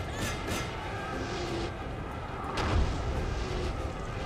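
Volleys of musket and artillery fire from troops in the Napoleon: Total War battle game, heard as distant booms and rumbling cracks over a dense, continuous battlefield roar.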